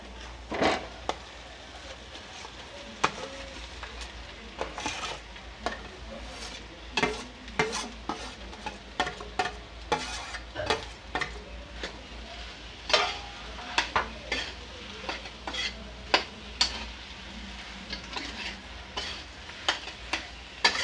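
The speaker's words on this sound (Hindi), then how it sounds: "इसे अच्छे से हम मसाले में सूखे को मिक्स कर लेंगे भूनते हुए" Mashed potato filling is stirred and roasted in dry spices in a pan, with a spoon scraping and knocking repeatedly in irregular bursts over a soft sizzle, close up and without talk.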